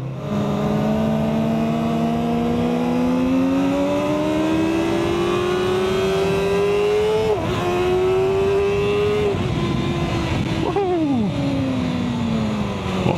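A 2024 Kawasaki ZX6R sport motorcycle ridden at full throttle on an open road, its engine screaming steadily higher in pitch through each gear, with quick drops at two upshifts before climbing again, loud and close throughout.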